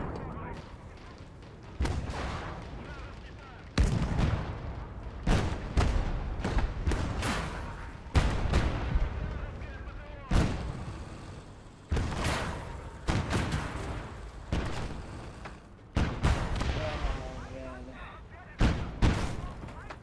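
A KV-1S tank firing HEAT rounds in a game: repeated heavy booming shots at irregular intervals, each with a sharp attack and rumbling decay, loud and close.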